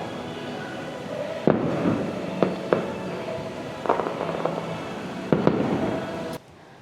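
Fireworks go off over a Disney castle in Japan. Several sharp bursts and crackling pops come at irregular intervals over a steady background hum, and then the sound cuts out abruptly.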